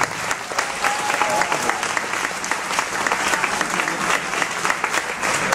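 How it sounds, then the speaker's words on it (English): School audience applauding steadily after a student performance program, a dense even patter of many hands clapping at moderate volume throughout, without speech over it. "A round of applause for Rich Ruxton School and all of our students."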